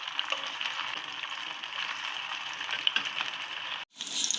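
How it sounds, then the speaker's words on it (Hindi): Chicken nuggets shallow frying in a little oil, a steady bright sizzle and crackle close by, briefly cutting out near the end before resuming. "ये देखें, बिल्कुल थोड़े से ऑयल में मैं इनको बना रही हूँ।"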